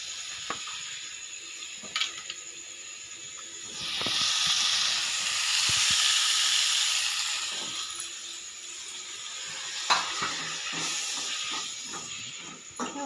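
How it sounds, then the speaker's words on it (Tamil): Onions and tomatoes frying in a pan for curry, a loud hissing sizzle swelling up in the middle and easing off, with scattered clatter of stirring around it; no talking. "வெங்காயம் போட்டு வதக்கியாச்சு இப்போ தக்காளி போட போகிறோம்"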